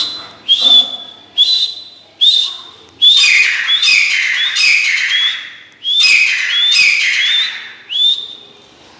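A Sindhi pheasant gives repeated loud, clear whistling calls up close, each a bright rising note, sounding in quick runs with short gaps and no talk.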